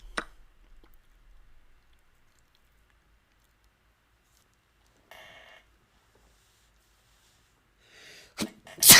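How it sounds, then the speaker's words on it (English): A single sharp, loud sneeze bursts out near the end after a long, mostly quiet stretch broken only by a few faint, scattered noises. "usually sneezing doesn't hurt me so much. That was painful."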